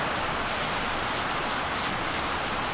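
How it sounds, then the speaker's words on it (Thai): Heavy rain pours down in a dense, steady hiss with no gaps, close and fairly loud, and nothing else is heard through the short stretch. "เสียงฝนกระหน่ำมากแล้วจะไล่ยังไงทีนี้"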